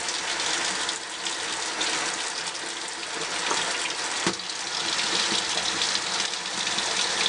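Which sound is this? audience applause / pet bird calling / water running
water running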